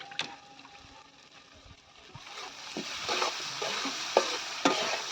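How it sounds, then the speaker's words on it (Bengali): Potato and small soybean chunks fry with spice paste in a pan, soft scraping stirs and a quiet sizzle that grows louder toward the end, with a few sharp utensil knocks. "মশলাটা দিয়ে আমি আলু সয়াবিনটা কষে নিচ্ছি।"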